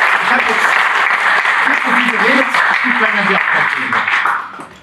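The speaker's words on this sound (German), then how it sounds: "Dicker Applaus für unsere Moderatorin des Abends." Audience applause for the evening's host at a CDU political talk event on gastronomy, a dense sustained clapping from a crowd filling the room, steady throughout before tapering off at the end.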